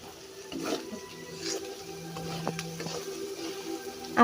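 Meat curry with chili powder is sautéed in a pan, a faint, low sizzle with soft stirring and scraping, quiet and steady.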